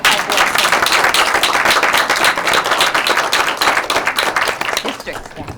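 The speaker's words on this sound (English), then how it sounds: "The rest of us will clap in recognition of this." A school board meeting audience bursts into loud, dense clapping in recognition, sustained applause from many hands that tapers slightly toward the end.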